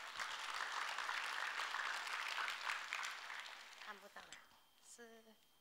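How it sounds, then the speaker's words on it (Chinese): Audience applause at a company introduction event, a dense sustained clapping that fades out after a few seconds as a voice begins speaking. "来给我们公司产品一个掌声"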